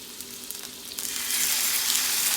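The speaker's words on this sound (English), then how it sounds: "Now that my pan is smoking hot, I'm gonna go in with my fish skin side down first." A salmon fillet goes skin side down into a smoking hot pan, the quiet background hiss jumping into a loud, bright, steady sizzle that fills the space, close with no talk.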